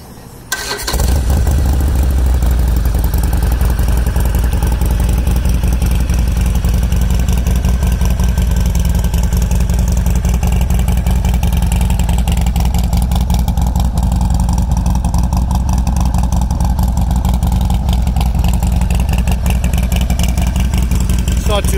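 A 2018 Harley-Davidson Sportster Roadster 1200 cc V-twin with a Bassani 2-into-1 exhaust fires up after a brief crank, then settles into a steady, loud, close low-pitched idle rumble that continues without a break.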